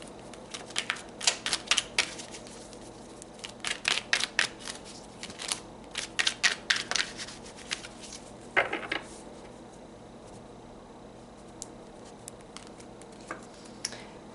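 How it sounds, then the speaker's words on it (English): Tarot cards are shuffled and drawn, bursts of crisp riffling and snapping clicks close by, growing sparse toward the end. "Let's pull some more cards."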